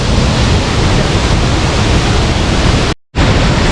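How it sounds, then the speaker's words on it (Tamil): Ripple Falls waterfall in Munnar, Idukki, roars as a loud, constant broadband rush of falling water, broken only by a short cut to silence near the end. "சக்கீர் பாய் அருவியின் அழகை ரசிச்சுட்டு இருக்கிறாரு."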